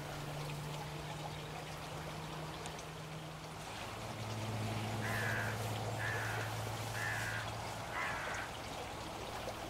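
Hooded crows and a raven call outdoors: a run of four hoarse caws at a steady pace, moderately distant, over rushing water and a low drone.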